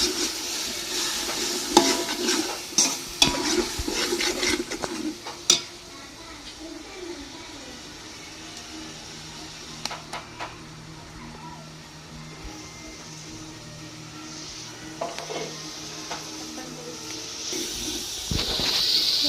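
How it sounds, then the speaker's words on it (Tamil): Small-onion paste sautéing in a pan for Dindigul-style country chicken biryani, a soft steady sizzle with scraping stir strokes, louder clattering early on and a hissing rise near the end. "அரைச்சி வச்சிருக்கிற சின்ன வெங்காய பேஸ்ட் இது ஆட் பண்ணிக்கலாம். நல்லா வதக்கி விட்டுக்கோங்க."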